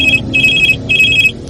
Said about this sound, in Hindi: फोन बज उठा।